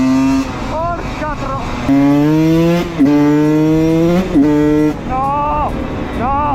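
A Husqvarna WR 125 two-stroke enduro motorcycle, tuned for enduro, revs hard and close with a buzzing engine note rising and falling through repeated throttle bursts, while a rider speaks over it.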